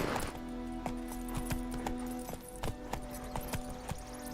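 Roach the horse trots in The Witcher 3, a steady clip-clop of hooves at a brisk pace, close and clear over a low droning game ambience.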